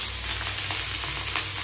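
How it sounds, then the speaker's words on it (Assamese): Jackfruit flower fries in oil in a kadai, giving a close, continuous crackling sizzle with no voices. "জাষ্ট ভাজি ল'ম।"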